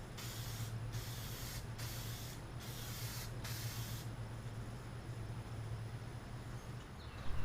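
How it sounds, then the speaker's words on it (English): Lacquer blender sprayed onto a Zenith 707 radio cabinet gives a steady, quiet hiss that runs throughout, briefly broken by a few short pulses early on. "spraying some blender flow out to kind of melt the existing lacquers or blend them together"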